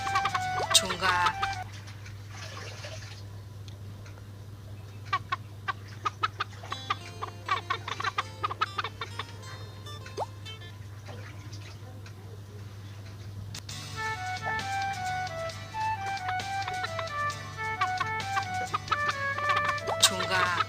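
Chickens clucking in a coop within a baby bird video game, repeated cartoonish clucks over a steady low hum, with bursts of game sounds and a voice talking intermittently.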